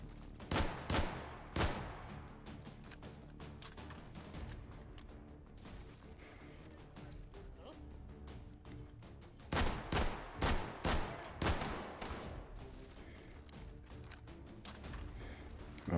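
Rifle rounds fire in the VR shooting game H3VR, clusters of sharp, meaty shots separated by quieter handling noise, loud bursts near the start, middle and end.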